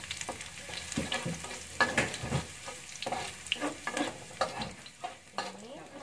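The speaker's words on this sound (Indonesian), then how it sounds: "kita aduk rata sampai dia berwarna kecoklatan" Shallots frying in a pan are stirred with repeated close scraping strokes over a steady crackling sizzle, with no talking.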